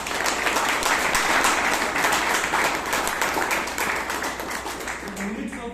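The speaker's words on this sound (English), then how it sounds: "Can we give them a big round of applause?" Loud, sustained applause from a crowd, many hands clapping together fairly close, slowly easing toward the end as a voice begins to speak.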